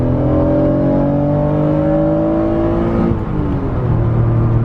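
An Acura NSX engine revs hard while held in second gear, a loud, steady, rising mechanical whine with harmonic tones climbing together, a brief dip near the three-second mark, then pulling on strongly without any voices.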